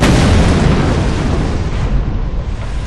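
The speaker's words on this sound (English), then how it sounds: "his transport is shot down with a missile" A missile explosion in the Pariah video game as a transport is shot down, heard as a loud, sustained broadband roar and rumble that fills the whole clip and eases slightly toward the end.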